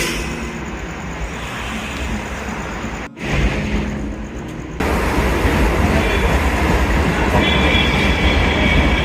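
A local commuter train arrives at a station in Pune with a loud, continuous rumble and clatter of wheels on rails, close by and growing heavier midway.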